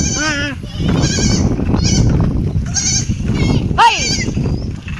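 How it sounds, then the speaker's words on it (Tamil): Goats and young goat kids bleat repeatedly close by, with several wavering, overlapping cries over a few seconds and a sharp, louder call near the end. "ஆட்டுக்குடி பாருங்க"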